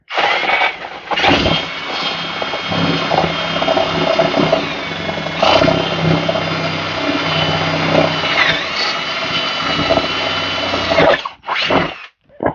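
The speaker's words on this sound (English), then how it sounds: "grab my trusty drill here" A power drill whines loudly and continuously, its pitch shifting as it bores through material. It stops abruptly near the end, followed by a couple of short bursts.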